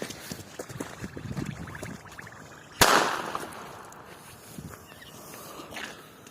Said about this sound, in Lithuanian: kai mes sprogdintume petardus.